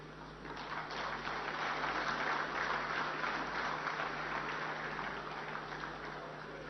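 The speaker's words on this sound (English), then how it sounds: "Can we have a huge round of applause for sir," Audience applause at the 25th ICID congress and international executive council meeting, a continuous diffuse wash of clapping in a large hall, fairly distant and steady, over a low electrical hum.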